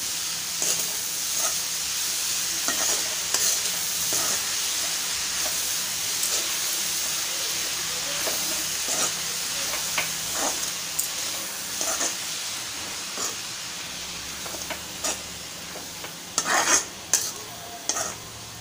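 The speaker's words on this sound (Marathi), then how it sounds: "परतवूया।" Red amaranth greens with salt are sautéed in a pan, a soft, continuous sizzle broken by scattered spoon scrapes and clinks, quiet and close, with sharper clatters near the end.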